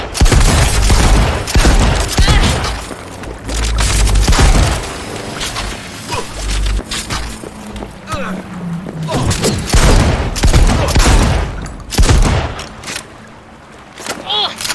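Sustained gunfire and booming blasts from a firefight in the video game Cyberpunk 2077, loud and dense with repeated bursts over a rumbling low end, with voices shouting in the mix.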